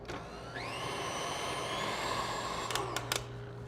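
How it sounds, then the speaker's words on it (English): A stand mixer with a whisk attachment beats Swiss meringue on high speed, a steady close whirring motor hum whose whine rises early on and then holds, with a few brief clicks near the end. "this goes onto my stand mixer here, and I'm going to start with the whisk attachment, and this goes on high speed for about 7 minutes"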